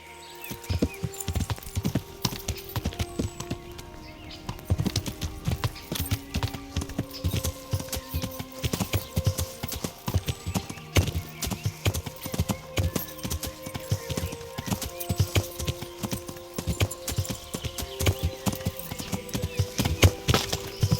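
Horse hooves gallop in a quick, steady rhythm throughout, with a soft melodic backing underneath, in the video game Kingdom Come: Deliverance.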